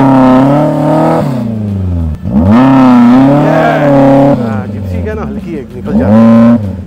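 A Mahindra Thar off-road vehicle climbs uphill off-road, its engine revving loud and close in repeated surges that rise and fall in pitch, briefly dropping off between pushes.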